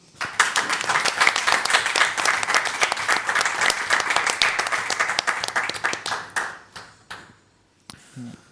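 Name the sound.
audience applause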